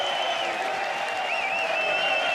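Darts crowd cheering and applauding at a world professional darts championship after a leg is won, a steady broad roar of clapping and voices from a packed hall that holds through the whole moment.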